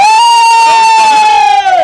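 A loud crowd at a carnival event shouts and cheers for Trujillo, Peru, with a sustained high-pitched group yell carrying through most of the moment.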